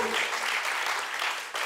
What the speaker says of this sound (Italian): gli facciamo un grandissimo applauso